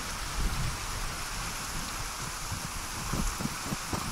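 Steady, heavy rain hisses continuously in the survival video game DayZ, a close, even downpour with low rumbling patter and no voices.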